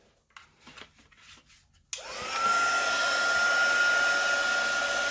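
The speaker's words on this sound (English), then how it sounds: "I'm going to hit it with the dryer again." A hair dryer switches on and runs steadily to dry wet, buckling paper artist trading cards, a loud continuous whooshing whine following a few light taps and handling sounds.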